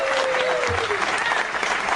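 Audience applause at a comedy show, a dense steady clapping from a crowd throughout, with a voice briefly heard over it.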